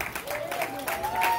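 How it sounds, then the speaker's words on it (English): Applause and clapping from a comedy club audience in Augusta, Georgia, a steady broadband patter of hands lasting about a second and a half, with a tonal whine and some crowd noise mixed in. "Y'all give it up one more time for Foolish."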